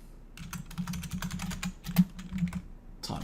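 Computer keyboard typing, a brisk run of uneven key clicks with one sharper keystroke near the end, close and fairly quiet with no speech.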